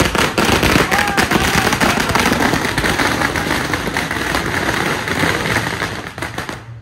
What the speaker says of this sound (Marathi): फटाके वाजायला लागले, फटाके